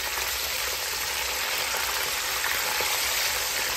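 Milkfish frying in a pan gives a dense, close, continuous hiss of spattering oil, with no pauses and no voices.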